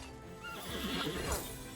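Horse in the video game Broken Alliance whinnying as it is killed during combat, a rising, wavering neigh over game ambience with faint hoof and clash sounds.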